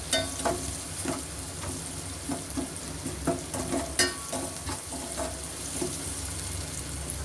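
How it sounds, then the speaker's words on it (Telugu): Chopped onions and green chillies fry in oil in a pan for a chicken gravy curry, a steady close sizzle broken by repeated scraping clicks of a spoon stirring, with no talking. "కొంచెం బ్రౌన్ కలర్ అయ్యే వరకు ఇలా వేయించుకోవాలి"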